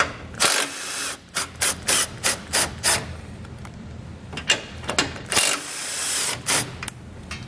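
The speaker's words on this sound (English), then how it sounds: "The 18mm socket, we're going to remove the 4 nuts holding our bumper core in place on each side of the vehicle." An 18mm socket on a ratchet loosening bumper-core nuts on a 2013 BMW X5, heard as bursts of rapid clicking ratchet strokes with short pauses between, close and loud, with no talk.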